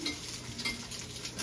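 A fork breaks up egg in a pan beside bacon, making faint scraping and light metal taps over a soft background sizzle, quiet and close, with no talk.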